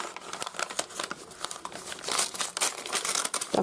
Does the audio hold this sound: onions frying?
no